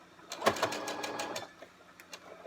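A sewing machine stitching slowly through fabric for a reusable face mask, a short close run of rapid needle strokes that trails off into lighter scattered taps.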